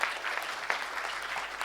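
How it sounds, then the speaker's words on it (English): Audience at a sustainability award ceremony in Pune applauds steadily for a guest, continuous even clapping with no talk over it. "Gurmeet, can we give him a round of applause?"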